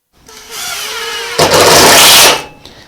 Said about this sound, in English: I'm going to take my drill now. I'm going to drill it in just like that.